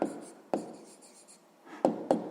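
A pen scratching out numbers on paper during a maths exercise, close and quiet, with short strokes and several sharper taps as digits are written.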